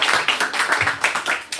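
A church congregation at a Baptist revival service claps in a loose, fast rhythm of dense hand strikes, close and steady, with no voices over it.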